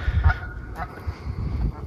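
Geese in a game honk in a few short, rough calls spread over a couple of seconds, set against low rumbling background noise with no clear talk.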